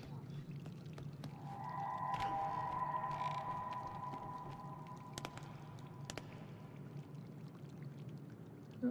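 A faint, low gurgling rush like a toilet flush rolls through a Little Nightmares game scene under a sustained eerie tonal drone, with a few soft knocks scattered through.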